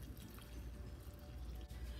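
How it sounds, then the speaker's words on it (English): Hot water and melted butter mixture pours steadily into cornbread batter in a bowl, a soft continuous liquid splash and trickle lasting about two seconds, faint and close. "Now we're going to add in the hot water and butter mixture."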